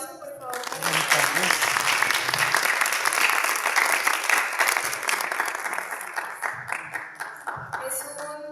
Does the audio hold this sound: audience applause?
yes